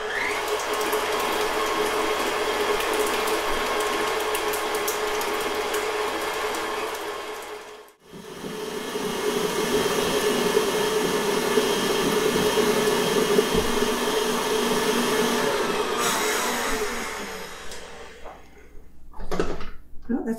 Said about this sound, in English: What I'm going to do is put this on my mixer and beat it until it gets light and lemony colored.